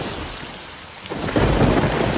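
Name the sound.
heavy rain and thunderstorm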